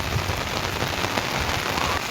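Heavy first-season rain pours steadily onto flooded village streets in Gujarat, a dense, continuous wash of hiss and patter close by with no voices.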